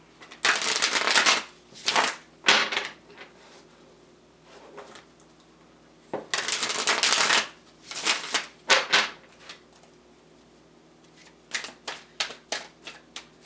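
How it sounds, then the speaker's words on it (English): Tarot cards being shuffled by hand in several quick riffling bursts separated by short pauses, close and crisp, with a run of lighter taps and flicks toward the end. "2 more shuffles and we will get right into this thing."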